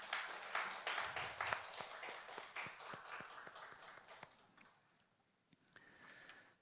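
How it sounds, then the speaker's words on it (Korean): A congregation at a late-night church service claps in a faint, brisk round of applause that fades away after a few seconds into quiet. "다시 한번 박수로 격려합니다"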